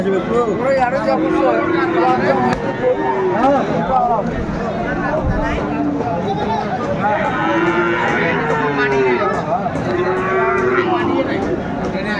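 A black Sahiwal bull moos loudly several times, long drawn-out lowing calls repeating across the clip, close by, with faint background noise between calls.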